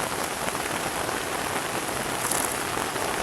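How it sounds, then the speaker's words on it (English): Steady rain at a campsite, falling on an awning and the ground around it: a dense, even wash of drops that holds at one level throughout, with no voices. "It started raining on us."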